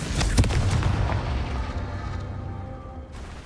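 Spell blasts in the Hogwarts Legacy video game, a fire-blast Confringo hit landing with a loud booming burst near the start, followed by a rumbling, fading explosion tail.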